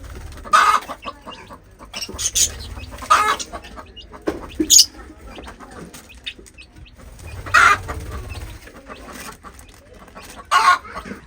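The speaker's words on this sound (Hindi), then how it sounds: "दोनों चूजे छोटे" Chickens cluck in repeated bursts close by, with small chicks chirping in between, against a low background rumble.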